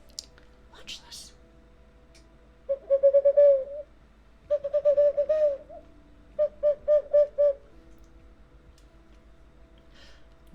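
A person imitates an owl with voiced hoots, delivered in three short bursts of rhythmic cooing hoots separated by pauses, close and fairly quiet.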